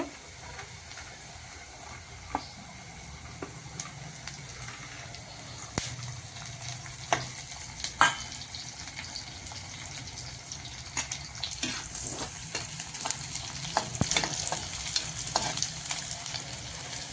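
Green chillies fry in oil with sautéed onion, a steady close sizzle broken by scattered spoon scrapes and clinks, growing slightly busier toward the end, with no voices.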